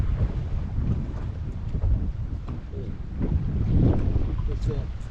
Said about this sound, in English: So instead of trying to get out of the wind, we're in the wind.